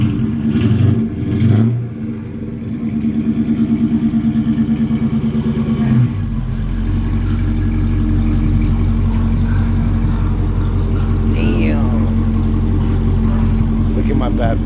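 A Night Hulk boat engine fitted with a full exhaust starts with a cough and then settles into a loud, rumbling, throaty idle close by, with bursts of revving. People talk over the engine's start.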